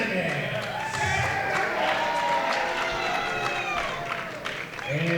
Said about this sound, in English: They're cheering him.